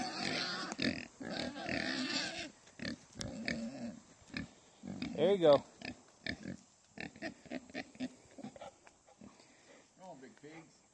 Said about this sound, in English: Come on, pigs.